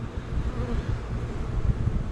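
Honey bees buzzing around an open hive during a seven-day inspection, a dense continuous drone close to the microphone with a rough low rumble of wind.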